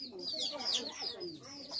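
A pure white jungle-breed rooster clucks and murmurs softly in a run of short, close calls, with some background voices.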